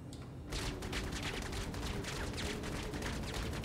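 Cutlass Steel guns firing YellowJacket rounds at a Valkyrie in Star Citizen produce a sustained rapid stream of shots, loud and dense, starting after a brief lead-in and continuing without pause.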